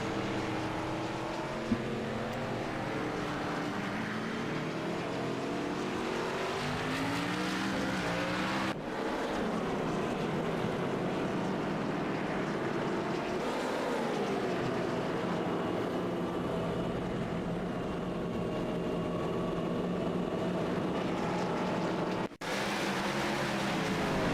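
Race cars in an ARCA-style sim race at South Boston: a steady, loud roar of engines under continuous load with shifting pitch as the cars slide through a corner, broken by two brief dropouts.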